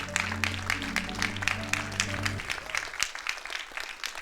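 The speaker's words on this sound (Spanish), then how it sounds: "Denle un fuerte aplauso a Cristo" A church congregation claps together in sustained, fairly quiet applause with crisp individual claps, while a low sustained music tone fades out partway through.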